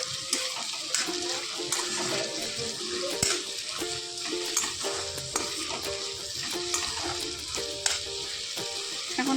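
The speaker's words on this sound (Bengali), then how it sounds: "তো তোমরা দেখতেই পাচ্ছ এখন আলুটা ভাজা হচ্ছে।" Potatoes for aloo posto fry in oil, a continuous crackling sizzle with repeated sharp clinks and scrapes of a spatula against the pan, steady and close throughout.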